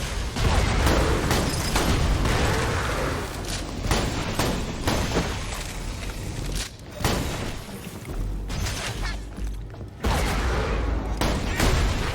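Gunfire in Borderlands 2 while fighting a vine freak, heavy bursts of rapid shots and booming impacts in loud clusters separated by brief lulls, with occasional voices over the combat.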